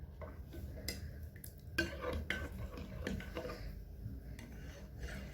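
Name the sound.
stirring yogurt pudding mixture with milk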